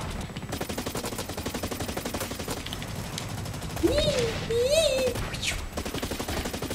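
Rapid automatic gunfire crackles steadily throughout a Blacklight Retribution first-person shooter match. A dense rattle of shots runs under a brief rising whistle-like tone in the middle.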